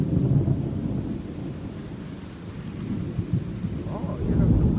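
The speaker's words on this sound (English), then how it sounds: "here comes the rains coming harder" A thunderstorm in New Bern, North Carolina, with heavy rain pouring steadily and low thunder rumbling throughout, swelling louder toward the end.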